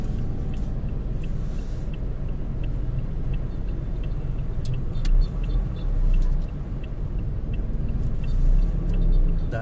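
Heavy road traffic streams along Marcos Highway near SM Masinag in Antipolo, Rizal. Close engines keep up a continuous low rumble, with swells as individual vehicles pass by.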